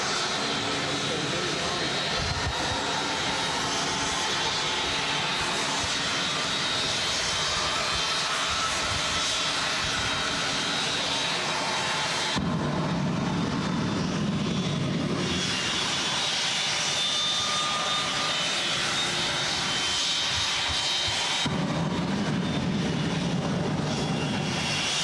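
A jet engine mounted on the back of an old VW split-screen camper van roars steadily at a track event, a loud sustained whine and rumble with crowd and commentary voices over it.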